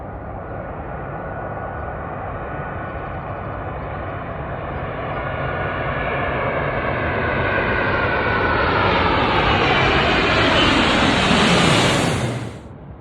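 A KLM Boeing 777 rolls down the runway for takeoff. The jet engine roar builds steadily into a loud, rising whine, then cuts off sharply near the end.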